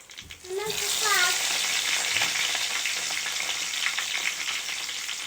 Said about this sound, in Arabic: انا بحمر الستريبس اهو